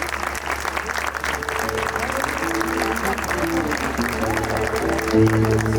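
At a star-themed choir concert, the audience gives sustained, loud applause to welcome a retired general onto the stage, dense clapping throughout with faint crowd murmur and a low hum beneath.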